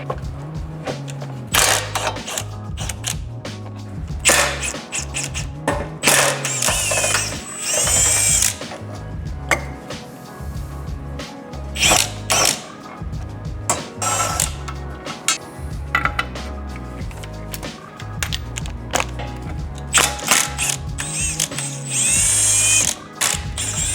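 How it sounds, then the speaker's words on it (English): A ratchet clicks in rapid bursts as it removes bolts from the shifter bushings of a Subaru, loud and close, with short pauses and some clanking of tools between the runs. "So we're going to remove these bolts and start taking things apart."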